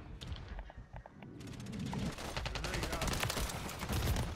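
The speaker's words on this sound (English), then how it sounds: "A full RPG shot straight to the chest." Call of Duty match on the Shipment map: after a few sparse shots, a dense burst of rapid gunfire and RPG blasts builds into a loud, continuous barrage.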